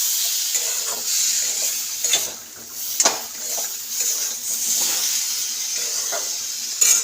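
Masala with salt and two small tomatoes being sautéed for koi fish curry, a loud continuous sizzle and hiss with rhythmic stirring scrapes and spoon knocks, close up and without speech.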